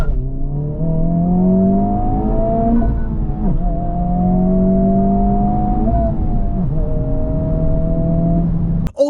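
A 2024 Honda Civic Type R accelerates hard from inside the cabin, its engine note climbing steadily through two gear shifts with brief dips between, loud and continuous for about nine seconds.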